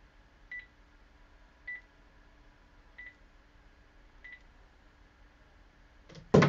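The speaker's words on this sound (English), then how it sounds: "Hang on, my phone's ringing." A mobile phone rings with four evenly spaced short electronic beeps roughly every 1.3 seconds, faint and close over quiet room tone, ending in a louder burst of noise.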